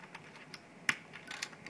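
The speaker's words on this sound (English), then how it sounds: "And you can hear the sticky keys." Clicky keystrokes from a Razer BlackWidow mechanical keyboard, sticky keys among them: a scattered run of light taps with one sharper, louder click near the middle, close up and with no talk.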